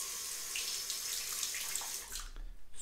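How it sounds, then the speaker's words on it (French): A tap runs steadily with a broad rushing hiss of water, close by, rinsing during a shave with sandalwood shaving soap, then cuts off abruptly near the end. "je vais rincer au robinet"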